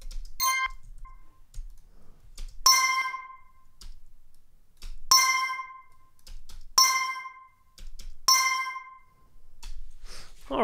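A synthesized mobile notification tone made in Cubase/Nuendo: bright chiming pings repeat about five times with pauses between, each sharp strike ringing briefly and decaying, close and clean with no talk.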